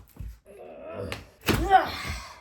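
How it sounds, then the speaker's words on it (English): Skirting board prised off a guest bedroom wall beside a door frame during a DIY renovation: a strained wooden creak and groan, then a loud close thunk with a cracking rip as the board pops free. "So let's pop off that last bit of skirting and be done with this room for the day."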